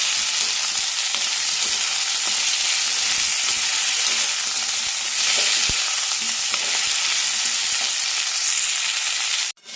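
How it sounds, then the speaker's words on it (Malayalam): Drumstick, potato, onion, green chillies and curry leaves sautéing in a pan give a steady, close, hissing sizzle that runs unbroken throughout, ending in a brief knock. "പച്ചമുളക്, കറിവേപ്പില, എല്ലാം കൂടെ ചേർത്ത് വഴറ്റിയെടുക്കാം."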